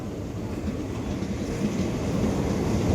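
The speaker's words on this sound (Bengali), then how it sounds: "এদিকে ট্রেন যাচ্ছে" A red train rolls past close to a station, a loud, steady rumble with wheel clatter that builds slightly over a few seconds.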